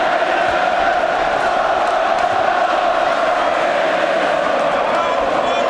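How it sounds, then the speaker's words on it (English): Boxing arena crowd cheering and roaring during the Ricky Hatton vs. Juan Lazcano fight, about 14,000 fans. The noise is a dense, constant, loud wall of shouting and cheering with no letup. "The noise from the crowd ringing around this arena is quite incredible."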